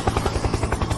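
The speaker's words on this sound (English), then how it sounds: "Helicopter, helicopter." A helicopter sound effect pulses with fast, loud, rhythmic rotor chops, close and alone over one second.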